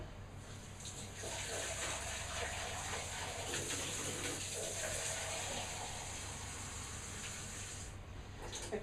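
Tap water pours steadily into a brewing vessel for a beer kit, a continuous broad rushing gush that holds level for several seconds and stops near the end.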